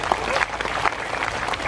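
A seated audience at an evening gathering at a police station in Klaten claps together, a brisk, fairly loud burst of mixed handclaps lasting under two seconds with some voices mixed in.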